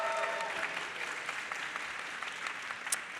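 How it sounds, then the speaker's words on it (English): Audience applause at a CPDP.ai 2024 conference panel on deepfake governance, fairly soft and steady, a crowd clapping evenly throughout the short stretch. "Yes to the applause, more of that."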